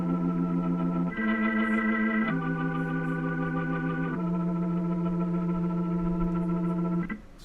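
Tone Wheel B3 organ sample instrument with a fast rotary speaker effect, holding sustained chords that change every couple of seconds, steady and fairly loud with a slight swirling shimmer, no voices.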